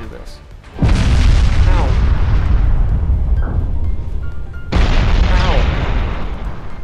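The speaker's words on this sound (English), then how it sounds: "Stop blowing holes in my ship." Shells slam into a warship in the naval battle game Ultimate Admirals: Dreadnoughts: two loud, heavy booming blasts, each rolling and rumbling on for seconds, with a voice briefly crying out.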